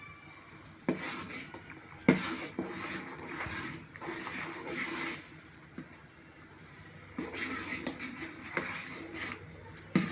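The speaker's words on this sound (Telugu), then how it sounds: "ఇప్పుడు బాగా కలుపుకోవాలి ఇది." Grated coconut powder being stirred in a cooking pan, with a utensil clinking and scraping against the metal in bursts of close, moderately loud scrapes and taps, no voices.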